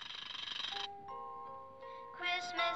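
A special clock chimes at midnight on Christmas Eve, sounding a few clear, sustained bell-like tones that ring out alone after a brief burst of brighter noise, followed by livelier chiming notes near the end.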